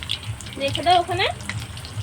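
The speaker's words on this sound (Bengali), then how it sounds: "তো এবার আমি ভেজে নেব।" Egg-coated raw potato snacks dropped into hot oil and frying, a steady sizzle and bubbling close by, with a voice speaking briefly over it midway.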